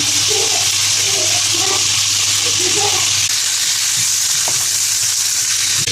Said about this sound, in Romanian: Acum o să adaug noodle, care este din orez și este fără gluten.